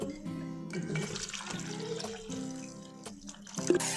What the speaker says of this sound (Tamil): 1 கப் ரவைக்கு 4 கப் தண்ணி ஊற்றி நல்லா கலந்து வச்சுக்கோங்க.